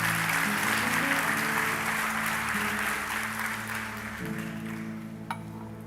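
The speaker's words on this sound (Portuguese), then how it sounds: "Aplauda ao Senhor" A church congregation claps and cheers together in praise during a worship service, a dense, sustained wash of applause with organ-like music tones underneath, thinning out toward the end.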